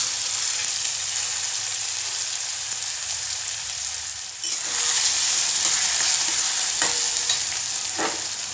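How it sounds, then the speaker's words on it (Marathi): Tomatoes frying in oil until soft for a spicy brinjal bharit with dried fish: a loud, continuous sizzle close by, broken by a brief dip and several scraping stir strokes, with no voices. "आता टोमॅटो चांगला सॉफ्ट होईपर्यंत परतून घ्यायचे."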